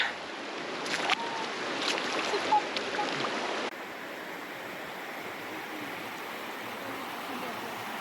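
Water rushes and splashes around feet wading into the Virgin River in a Navajo sandstone canyon at Zion, with close sloshing bursts early that settle into a steady stream babble.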